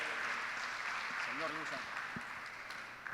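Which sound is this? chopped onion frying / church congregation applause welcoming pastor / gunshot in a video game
church congregation applause welcoming pastor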